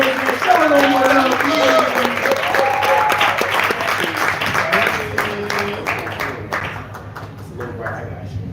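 An audience at a poetry event claps and cheers loudly for a spotlight poet, sustained applause mixed with whoops and voices that thins out and fades toward the end.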